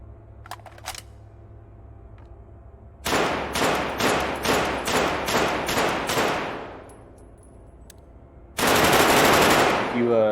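Automatic gunfire in the video game Dead Matter: a rapid burst of about ten evenly spaced shots, then a short pause, then a dense sustained burst of fire.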